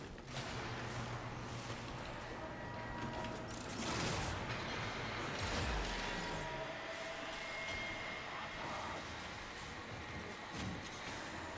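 A tram in the video game Warframe rumbles along continuously with a dense, steady rolling roar and a few mechanical clanks, loud throughout with no speech.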